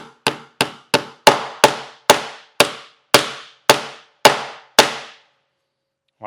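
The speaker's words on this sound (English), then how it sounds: "I'm going to tack in my first nail" Close hammer strikes tack nails into a wooden stool frame, about twelve ringing blows in a steady run, then a pause before one last hit begins; no voices.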